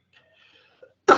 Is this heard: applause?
no